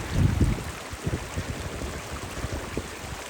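Someone wading across a river without a bridge on the Kungsleden trail in Swedish Lapland, with close, uneven splashing and churning water that surges early and then continues in irregular sloshes.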